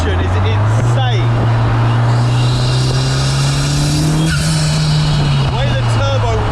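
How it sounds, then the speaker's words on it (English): A rare car, once abandoned and now restored, accelerates hard with a steady engine drone that climbs in pitch as the turbo winds up, loud and close, with a voice talking over it. "The way the turbo winds up"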